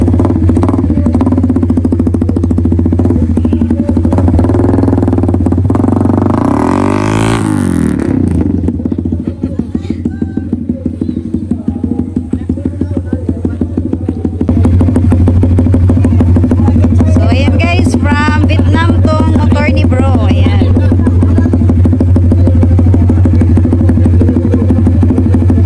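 Suzuki Raider 150 Fi motorcycle, a made-to-order bike from Vietnam, running loud and steady throughout with a brief rev and clatter midway, while people talk over it.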